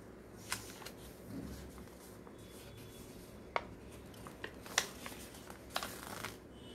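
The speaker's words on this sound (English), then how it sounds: "fold it on the line below it." Quiet, close paper handling as a sheet is folded into an envelope, with soft rubbing, light creasing rustles and a few crisp taps and crinkles against a faint room hiss.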